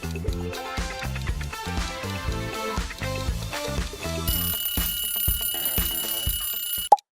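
A loud ringing alarm clock bell over busy musical backing, clanging steadily for several seconds before cutting off abruptly.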